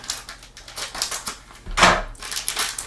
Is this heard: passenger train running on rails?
no